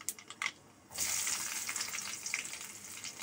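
Black mustard seeds fry in hot oil for a Bengali green-tomato fish curry. Faint crackles and pops come first, then a bright, steady sizzle swells up and carries on to the end, with no talking.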